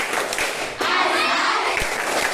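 Elementary pupils in a Palembang classroom clap along to a chanted rhythm, sharp hand claps mixed with children's voices, loud and near throughout.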